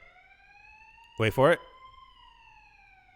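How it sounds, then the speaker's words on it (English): A steady wailing emergency vehicle siren drones outside in the distance throughout, its pitch slowly shifting, while a person briefly speaks over it. "I don't know if you can hear the sirens outside once again."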